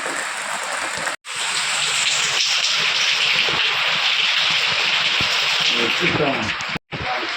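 Heavy rain drumming down at a new house without doors or window frames, a loud, dense hiss with splashes and pattering throughout, broken by two brief cuts to silence.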